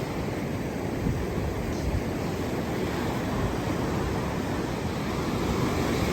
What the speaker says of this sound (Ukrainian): Який океанчик бурхливий.